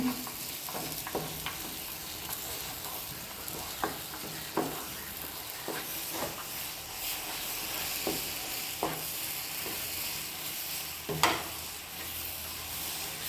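Cashews added to banana halva cooking in a pan, a quiet continuous sizzle broken by irregular sharp scrapes and taps of a spoon as it is stirred, with one louder knock near the end.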